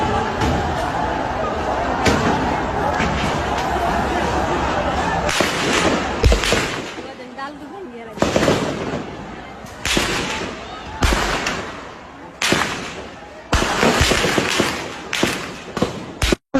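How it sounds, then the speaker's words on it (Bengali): Gunfire during a garment workers' protest in Ashulia rings out as sharp, irregular bangs and thuds, several in quick succession and others spaced apart, over a noisy outdoor background with voices. "গুলির শব্দ হয়তো পাইতেছেন"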